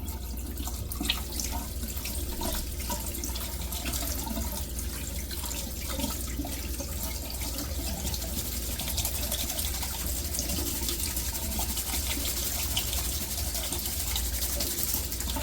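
A kitchen tap runs steadily over sprat fish being rinsed in a strainer, a continuous loud splashing wash of water with no pauses.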